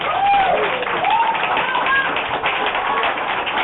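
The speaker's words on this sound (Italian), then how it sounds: "Un applauso per Giovanni Massaro!" An audience at an Italian stand-up comedy show claps steadily, a dense patter of many hands filling the room without pause.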